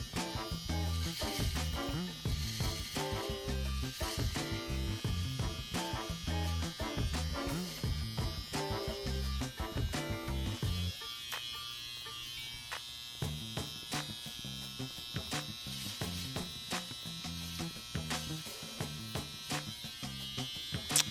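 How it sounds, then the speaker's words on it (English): Electric beard trimmer buzzing steadily as it shaves neck hairs below the beard line, a close continuous whirr throughout with slight changes in tone as it moves over the skin. "I'm just going to use the trimmer now in its natural position to shave down the hairs that are growing from my neck below the baseline"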